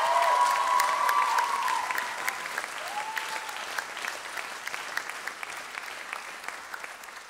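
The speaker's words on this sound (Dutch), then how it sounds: "Applaus voor Wannes!" An audience at a musical applauds steadily, a dense wash of many hands clapping that starts loud and eases slightly over time, with some faint voices mixed in.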